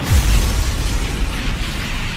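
A train colliding with a freight train at a combined 83 miles per hour: a loud, rumbling crash with a heavy low-end boom that fades into sustained grinding noise.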